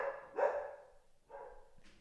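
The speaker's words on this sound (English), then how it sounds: "There's somebody coming on our premise, so the dog is now warning us." A dog barks a warning at someone arriving on the property: two close, sharp barks, each trailing off, in an otherwise quiet room.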